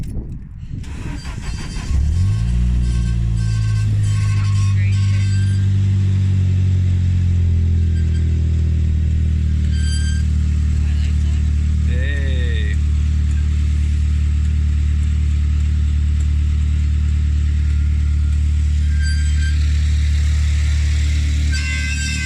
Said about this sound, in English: She's idling at just under 1, so about 900 RPM